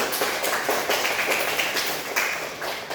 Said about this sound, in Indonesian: Beri tepuk tangan untuk Oldi.